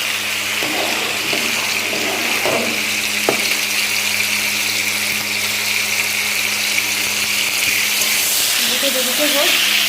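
Pointed gourd frying with turmeric in a wok, a continuous hissing sizzle at moderate loudness with a few faint clinks and a soft voice underneath.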